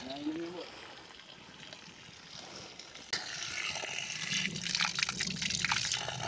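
Spring water trickling and splashing from a hole in the ground at a former village washing spot by a river, steady and fairly close, getting louder partway through, with people talking softly over it.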